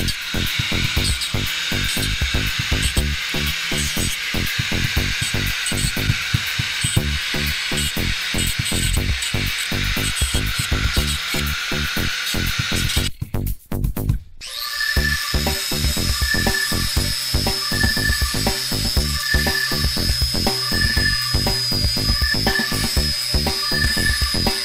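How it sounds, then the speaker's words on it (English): A power tool grinds steadily and loudly close by, smoothing off staples on a haunted movie theater facade's ceiling trim, with one brief pause midway before the harsh whirring grind resumes. "now that I got all the staples all ground off"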